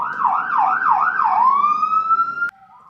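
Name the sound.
fire truck siren passing by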